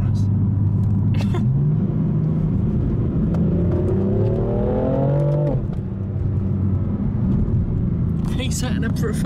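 A BMW M4 Competition engine gives a short rising rev blip over a constant deep cabin rumble from the moving car, with people talking around it.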